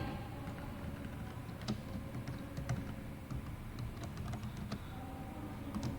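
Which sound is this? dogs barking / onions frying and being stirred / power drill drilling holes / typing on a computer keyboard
typing on a computer keyboard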